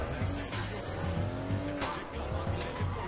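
A car driven in the video game Crackdown, with a steady engine drone and repeated tire squeals and skids throughout, loud and close.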